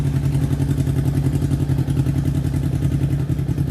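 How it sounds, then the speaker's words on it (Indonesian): A used motorcycle's engine idling close up at a garage, a loud, steady low throb with an even rapid rhythm and no break throughout. "Suara mesinnya pun juga masih halus dan terawat nih teman-teman"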